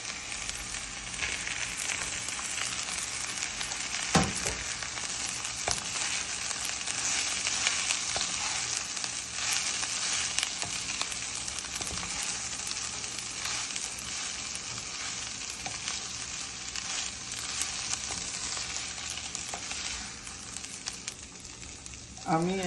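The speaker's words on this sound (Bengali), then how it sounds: "আমি এখন মাছগুলোকে ঢেলে দিব।" Rohu fish pieces sizzle steadily in hot oil in a pan with ginger paste, a continuous dense frying hiss lasting throughout with a few faint utensil knocks.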